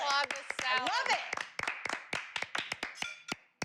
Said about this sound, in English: I'm gonna have to applaud this salad